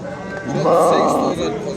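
Sheep and rams bleat in a busy livestock market in Sokuluk, with one loud, wavering bleat standing out over a crowd talking nearby.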